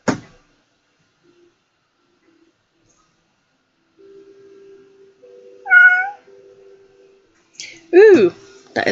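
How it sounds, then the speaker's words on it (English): A cat meows twice, short rising-falling calls close by, with a faint steady hum between them and near silence before. "that is the cat meow"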